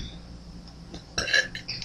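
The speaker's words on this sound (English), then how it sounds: "burped in every video" A woman burps once, loud and close, in a quiet room, a short guttural eructation after a stretch of near silence.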